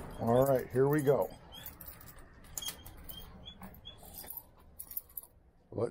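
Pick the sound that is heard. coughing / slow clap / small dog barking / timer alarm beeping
small dog barking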